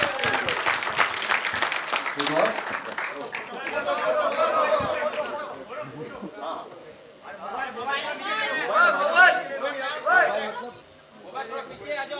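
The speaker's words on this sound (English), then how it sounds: "Give them a huge round of applause, guys" A press-conference audience at the IIFA 2017 event with three film stars breaks into applause, the clapping mixed with loud crowd chatter and voices over about twelve seconds, fading slightly near the end.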